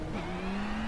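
Race car engine in the iRacing video game, a steady high droning note that climbs slightly in pitch as it revs, loud and continuous with no talk.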